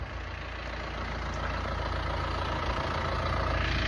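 A 200 hp Yamaha outboard on a Finmaster 6 boat at Menai Bridge idles continuously with a constant low rumble and broadband hiss, close by and unchanging throughout.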